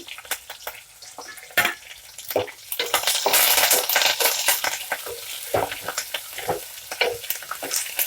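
Sliced onion and curry leaves frying in a pan for a rajma curry with sour raw mango, giving a crackling sizzle with bursts of stirring and scraping that swell in the middle, close up and without talk.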